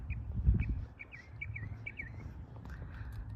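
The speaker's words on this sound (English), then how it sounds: "spring sounds with our spring birds coming back" Spring birds in a Florida park in Davenport, Polk County, give a quick run of bright chirps and short tweets from a moderate distance, over low outdoor rumble.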